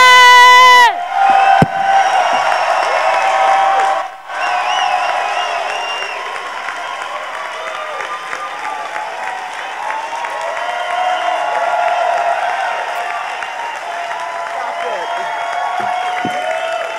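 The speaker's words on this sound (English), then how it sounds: "Keep clapping, keep clapping, keep clapping, keep clapping" A stand-up comedy crowd at the Howard Theater claps and cheers in a sustained roar, with a short dip partway through and a voice heard briefly over it.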